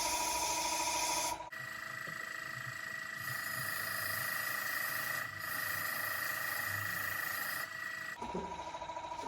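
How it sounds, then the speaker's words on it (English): Sandpaper rubbing the top of a handmade wooden biscuit cutter, a continuous close, even rasping scrub with a brief pause near the start and slight shifts in stroke, no voices. "And I try to get in and sand the top."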